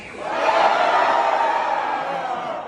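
A large arena audience at a knights tournament dinner show roars and cheers together, a dense, sustained wall of crowd noise that swells quickly and holds steady for a few seconds.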